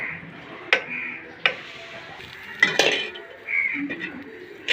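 A lid set onto a cooking pan while making an egg recipe gives a few sharp metallic clanks at irregular intervals, close and fairly loud over a quiet kitchen background.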